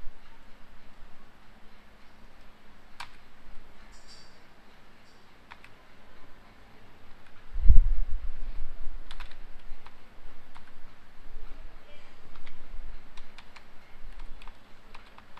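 Keys clatter on a computer keyboard as a shell script is written, with sparse, close clicks, a brief cluster of quicker keystrokes and one dull thump midway, over a quiet room.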